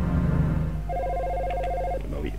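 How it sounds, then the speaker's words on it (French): Telephone ringing in the video game Dino Crisis, an electronic ring tone that starts after a low hum and sounds as one sustained tone lasting about a second. "le téléphone continuera automatiquement d'appeler"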